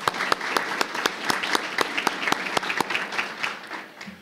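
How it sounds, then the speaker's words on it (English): An audience at a school board meeting applauds, a steady patter of many hands clapping that holds for a few seconds before starting to thin out. "One more round of applause for Macy, please."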